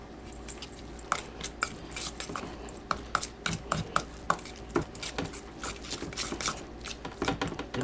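Food ingredients, including cracked fennel seed, are mixed by hand in a bowl for pesto armadillo eggs. A dense run of close, soft squishes and sharp clicks follows a fast, irregular rhythm.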